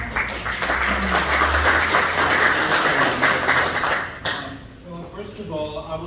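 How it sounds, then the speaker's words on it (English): Applause from an audience at a community meeting about trail improvements at Loveland Reservoir, a dense steady wash of many hands clapping for about four seconds, then dying away as a voice begins speaking. "can we give a round of applause to our general manager?"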